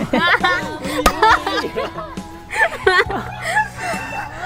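Chickens cluck and squawk in quick, uneven calls, close by, mixed with a busy background of voices and chatter.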